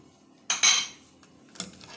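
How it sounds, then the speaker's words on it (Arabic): A utensil scrapes and clinks in a pan while fish and shrimp filling is stirred, two brief metallic clatters with quiet between them. "نحرك هادشي كامل"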